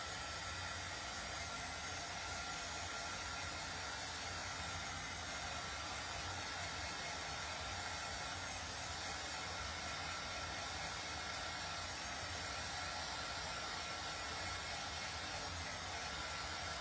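A hair dryer blowing steadily on an iron-on transfer on a baby onesie, a loud, even broadband whoosh that runs unbroken and close with no voices.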